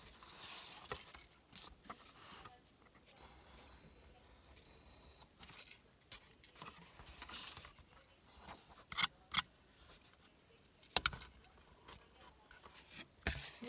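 Scissors trimming paper for a handmade mini album: scattered crisp snips and rustles, with a few louder distinct cuts toward the end, close up and with no talking.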